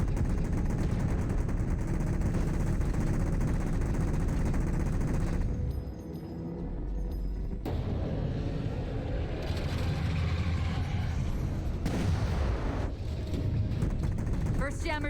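Railgun shots fired at jammers in Halo 4 ring out amid dense, loud game noise, with bursts of gunfire and mechanical clatter and a short dip in the din partway through.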